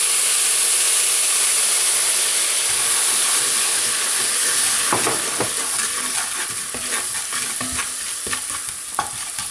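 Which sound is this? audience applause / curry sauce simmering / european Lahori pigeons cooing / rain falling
curry sauce simmering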